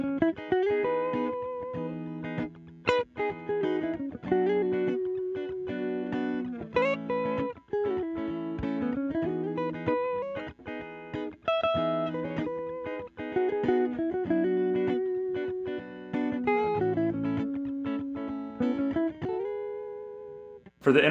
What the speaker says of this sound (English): This is what my beginner approach would sound like.